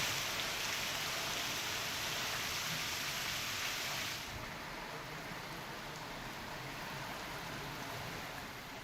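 Heavy monsoon downpour in Pune, a dense, continuous roaring hiss of rain on surfaces that stays loud and unbroken throughout, slightly dulling partway, with no voices.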